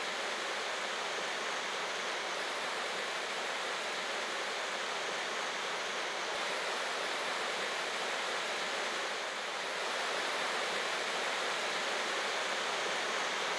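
Campbell Falls in Western Massachusetts pours in a steady, dense roar of rushing water, constant and unbroken throughout, with no voices.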